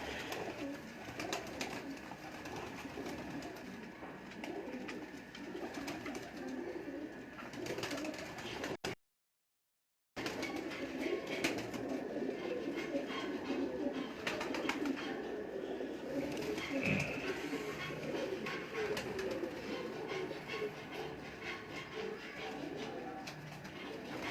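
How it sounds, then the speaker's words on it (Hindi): Pure Sebe breed pigeons coo in soft, repeated low calls, fairly close and continuous, with a brief gap of silence partway through. "ये जी प्योर सेबे वाले कबूतर हैं, मैं उनको आपको शौक़ करवा रहा हूँ।"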